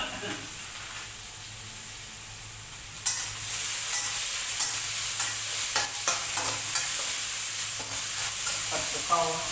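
Holy basil stir-fried with field frog meat in a wok, a close, loud continuous sizzle that jumps up sharply a third of the way in, with repeated spatula scrapes and clinks through it.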